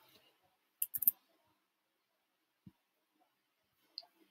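A computer mouse clicks on a link in a quiet room, a short cluster of crisp clicks followed by a few faint isolated taps.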